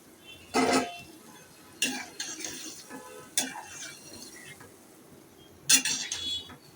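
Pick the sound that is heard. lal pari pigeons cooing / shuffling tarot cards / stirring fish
stirring fish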